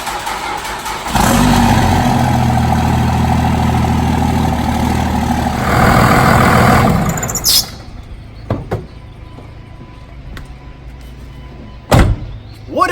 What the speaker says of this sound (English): Truck is running good